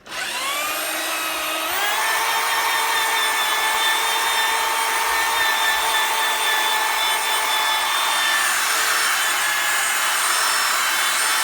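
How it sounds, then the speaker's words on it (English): A drill spins a sponge attachment polishing a plastic car headlight with T-cut compound, giving a loud, steady motor whine that rises briefly at start-up and then runs evenly and close for several seconds, with no voices. "Just let the drill do the work. Let the sponge, the attachment do the work."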